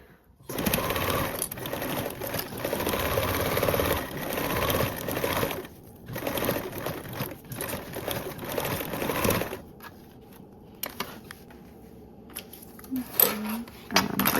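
Sewing machine basting around a mesh panel at a narrow seam allowance, running loud and fast in long stretches broken by short stops, then lighter clicks and fabric handling near the end.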